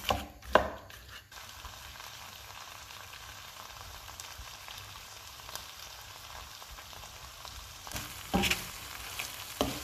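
A pan on a high gas flame, cooking spaghetti with prawns, gives a steady close sizzle that is fairly quiet, with a few louder clatters of stirring near the start and end.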